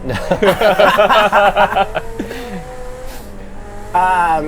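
A racing car's engine in a video game revs in quick pulses, then tails off into a low drone and swells again at the end, with bits of laughter and talk mixed in.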